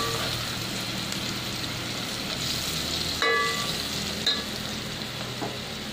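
Vegetables fry in hot oil for sambar, a continuous close sizzle with two sharper clatters of a spoon or pan partway through, and no one speaking.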